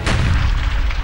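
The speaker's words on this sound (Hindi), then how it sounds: "जवाब में भारत की तोपें चली तो अपने ही जवानों पर गोले गिरने लगे।" Dense, continuous rumbling booms of artillery fire and exploding shells in a mountain battle at Rezang La, loud and sustained for about a second with no voices.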